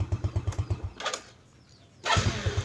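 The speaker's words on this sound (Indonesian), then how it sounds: "Sekarang kita coba starter. Nah, ini baru tokcer." A motorcycle engine fitted with a dry battery starts up: rapid rhythmic starter cranking pulses, a brief lull with a faint creak, then the engine catching into a steady close idle.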